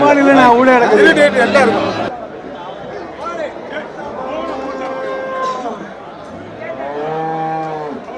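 Cattle low loudly and repeatedly at the busy Melapalayam livestock market in Tamil Nadu. Drawn-out moos rise over a constant background of crowd chatter.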